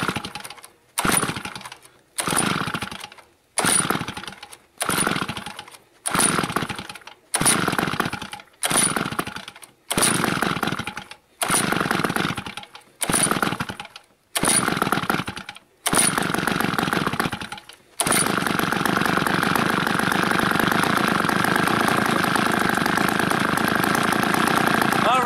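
A wood-gas-fuelled engine cranks in a series of about a dozen short, regular bursts with gaps between them, then catches and runs steadily and loudly at a constant idle to the end, with no speech.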